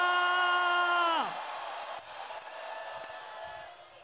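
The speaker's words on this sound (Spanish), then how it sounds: "vamos a hacer ruido ahora mismo" A large crowd screams and cheers at the Madrid Pride closing event, loud and sustained, with a held tonal sound dropping away early before the roar continues throughout.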